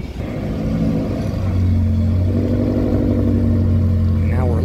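A Mazda MX-5 Miata race car drones steadily around the track at Watkins Glen, a loud continuous engine buzz that holds its pitch, with a brief rising note near the end.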